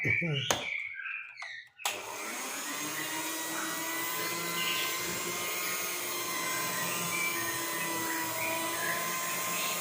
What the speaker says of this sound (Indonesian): Tetap saya mixer supaya rata.